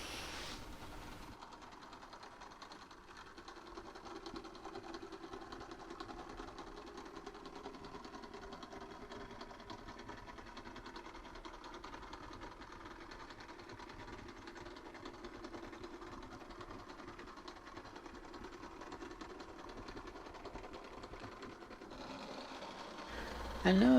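A Lima Class 33 model locomotive running slowly on a model railway layout, making a steady, even mechanical whir and hum that holds at one level throughout, with no clear voice over it.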